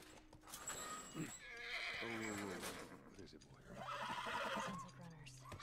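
A horse whinnies and neighs with clip-clop hoofbeats in the video game The Last of Us, at moderate volume with speech over parts of it.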